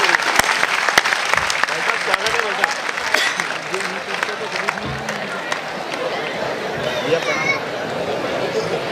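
A large audience at an outdoor kavi sammelan during the Nimar Utsav in Maheshwar breaks into loud, dense applause that continues for several seconds, with crowd voices mixed in.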